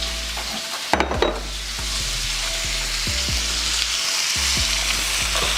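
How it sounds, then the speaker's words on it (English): Ground beef and Italian sausage frying in a pan give a loud, continuous sizzle, broken by scraping stirs and a few clanks of a utensil against the pan, with no talking. "let's just go ahead and add our ground beef and our pork, or our Italian sausage"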